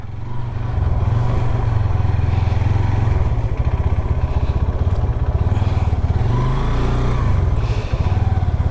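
A motorcycle engine idles loudly and steadily up close, its low rumble shifting briefly as the bike is moved, with faint clatter in the background.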